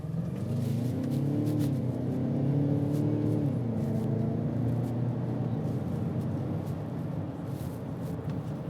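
A 2021 Ford Bronco Sport with a 2.0L EcoBoost engine accelerates off-road, a steady low engine drone rising in pitch over several seconds, heard from inside the cabin.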